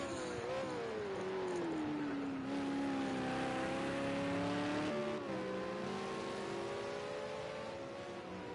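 Race car engine from the ARC Supercars championship in a PC2 video game, on a hot lap: a loud, sustained whine that climbs and dips through gear changes, with faint tire noise and no talk.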